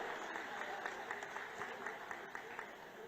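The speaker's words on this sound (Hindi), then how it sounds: "जोरदार ताली बजा करके उनका स्वागत करो" A crowd at a political rally applauds to welcome an agriculture and tribal affairs minister, steady rhythmic clapping heard faint and distant throughout, with a murmur of voices underneath.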